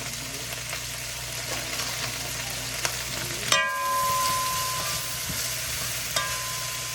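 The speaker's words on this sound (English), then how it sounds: "I'm letting the Brussels sprouts cook ahead of the cabbage" Brussels sprouts fry in a hot skillet with a steady broadband sizzle and occasional clinks of a utensil against the pan, close and continuous, with no talk.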